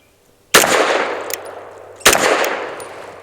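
Two loud, sharp shots from a Tisas 1911 Duty B9R 5-inch pistol firing soft-shooting 165 grain ammunition outdoors, spaced about a second and a half apart, each followed by a ringing decay.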